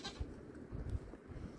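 A goat in winter bleats softly from close by, a short wavering call over low background rumble.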